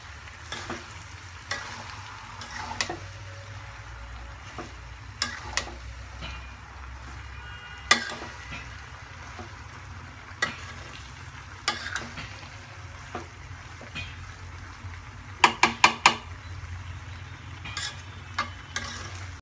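Beef tripe curry with dried chilies being stirred in a pan: a steady low sizzle with scattered scraping and clinking strikes of the spoon, a quick burst of several close together near the end, no talking.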